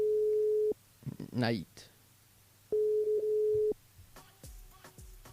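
A studio phone line gives out two long steady ringing tones, each about three quarters of a second to a second long and separated by a gap, with a voice speaking briefly in between and some clicks at the end.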